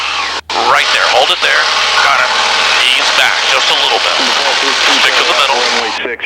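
A T-6 Texan propeller aircraft's engine roars at high power during the takeoff run at Kissimmee, Florida, loud and constant inside the cockpit with an instructor's voice talking over it.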